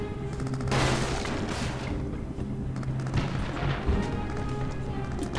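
Gunfire from a firefight in the video game Crysis, a dense crackling burst of shots with booms, fairly distant and continuous throughout.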